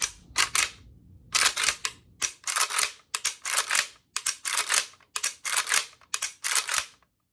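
An AK-47 style rifle (Arsenal SAM7K) dry-fired over and over, giving sharp crisp metallic clicks in quick pairs and clusters, close and loud against silence.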